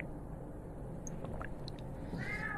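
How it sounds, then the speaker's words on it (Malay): A cat meows faintly in the background of an indoor room, a short cry near the end over a steady low hum. "Itu kucing kan, bunyi suara kucing."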